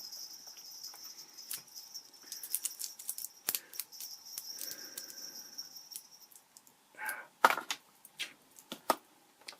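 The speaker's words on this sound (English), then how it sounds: "More scissors." Scissors snip and crunch through plastic packaging around a ToughBlade Pro razor, with scattered sharp cuts and crinkles at close range, growing busier and louder toward the end over a faint steady hiss.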